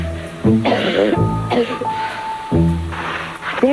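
A person with a cold coughing and clearing their throat in a television commercial for a chest rub, with several loud, close, harsh bursts in a row.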